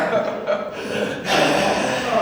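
A comedian on stage mimics a caller's heavy breathing on the phone, with loud raspy huffs and gasping breaths given in bursts by a voice close up, not real panting.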